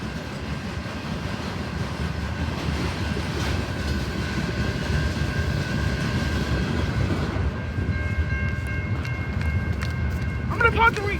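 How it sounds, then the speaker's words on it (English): A shoreline freight train rolls past at close range with a steady, loud rumble and rhythmic clickety-clack of wheels over rail joints, accompanied by high squeals and brief clanks toward the end, with a voice speaking over part of it. "We have a shoreline train lined up!"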